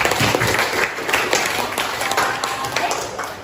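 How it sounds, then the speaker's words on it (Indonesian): Students in a classroom applauding at the end of a biology lesson on blood circulation; dense, steady clapping from the whole group for several seconds, close and loud, fading at the end. "Beri tepuk tangan."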